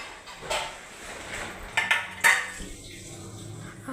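Dishes and pans clink and clatter in a few sharp knocks over a steady background hiss, with small metallic taps between them.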